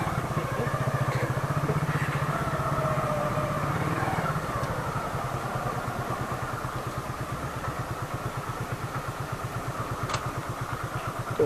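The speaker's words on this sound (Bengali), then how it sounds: "তো এখানে বাইকটা এখন পার্কিং করি," Old-model Hero Glamour motorcycle engine idling as it is parked on a road to Kolakham, a steady, close, throbbing rumble that runs throughout with no talk.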